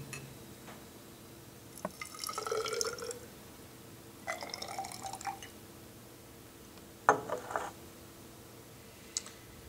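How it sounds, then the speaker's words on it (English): Metal pieces fizzing in 1 molar hydrochloric acid as hydrogen gas bubbles form, giving short bursts of crackling, dripping bubble sounds with quiet gaps between them. "some of the pieces of metal are being lofted by the bubbles of hydrogen gas that are being generated by this"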